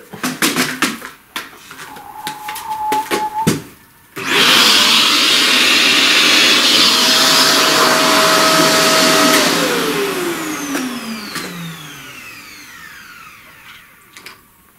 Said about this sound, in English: Vacuum up that a bit.